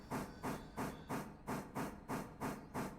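A synthetic steam locomotive exhaust from the railroad video game Railroader chuffs in a steady, rapid rhythm of about nine soft, hissy puffs, fairly quiet and even, with no talk.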